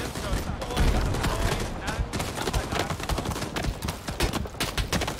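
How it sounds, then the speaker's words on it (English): Dense battlefield gunfire in the World War II shooter Rising Storm, continuous overlapping rifle and machine-gun shots and bullet impacts during a village defence, loud and chaotic throughout, with speech mixed in. "There are still bullets hitting."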